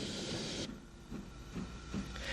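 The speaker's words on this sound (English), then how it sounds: "The mainline train is the 245 Dublin to Belfast." The 245 mainline Dublin to Belfast train passes near Newry in Ulster with a steady, fairly faint rumbling hiss and a few soft rhythmic clicks of wheels on rail joints.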